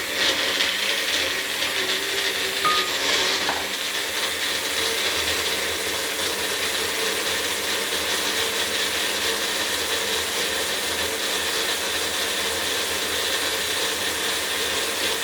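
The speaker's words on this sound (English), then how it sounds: "So I'm going to put it in here, and I'm going to blend it." Blender whirring as it purees fresh ginger for dumplings, a steady loud mechanical grind running alone and unbroken throughout.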